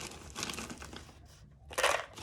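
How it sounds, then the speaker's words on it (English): Dried beans pour and rattle into a taped toilet paper roll noisemaker, a soft scattered crinkling patter with a brighter burst of rattling near the end. "So on my taller one, I'm gonna put some beans in there."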